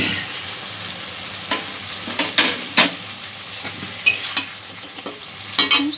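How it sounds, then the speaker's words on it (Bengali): Chicken mince frying in spiced oil in a Bengali ghugni pan, with a steady close sizzle broken by repeated scraping stirs and spoon knocks, no voices. "সমস্ত মশলার সাথে চিকেনটা কষিয়ে নেব।"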